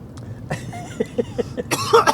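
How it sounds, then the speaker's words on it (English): A few short, raspy coughs in quick succession, close by, ending in a harsher burst of coughing. "As I'm coughing up a fucking lung over here."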